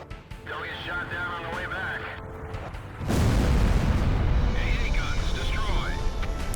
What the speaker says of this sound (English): and I'll be shooting rockets